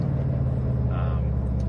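Low, steady rumble of a Subaru WRX all-wheel-drive turbo car's exhaust while driving, a constant droning hum heard from inside the cabin with a voice talking over it.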